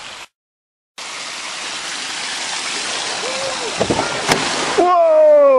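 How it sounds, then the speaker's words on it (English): Water gushing and pouring steadily out of a 1989 caravan minivan that has been driven into a lake, a loud continuous rush, with a brief dropout near the start, splashes later and a voice speaking over the end. "Look at the water flowing out of that thing."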